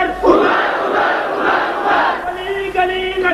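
A large crowd at a religious conference rally in Pakistan chants a slogan in loud, rhythmic unison, repeated calls rising and falling in waves, close and filling the space with no single speaker over it.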